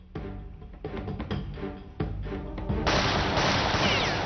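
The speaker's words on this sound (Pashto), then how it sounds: "حالا مامدوها ډز وکړه" Gunfire from a weapon in a tense drama scene: several sharp bursts in quick succession, followed by a denser, louder continuous roar of shots.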